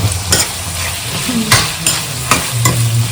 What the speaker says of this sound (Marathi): आणि थोडंसं विनेगर मिक्स करून घेऊ